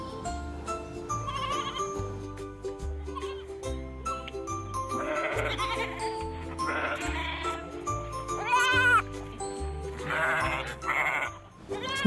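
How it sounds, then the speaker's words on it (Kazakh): A domestic goat bleats in a series of wavering calls of varying length, loud and near, set against continuous background music. "Ешкі."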